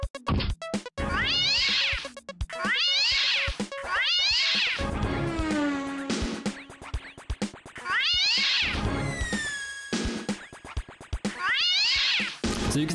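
Repeated cat meows and drawn-out caterwauling calls from the video game Nora, loud and close, arriving in several separate bursts with short gaps, no talking.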